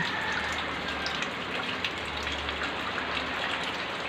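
Heavy rain from Typhoon Kristine in the Philippines, a steady dense hiss of downpour hitting surfaces, continuous and fairly loud throughout with no voices.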